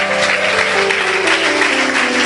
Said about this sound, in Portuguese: Aplauda mais uma vez ao Senhor.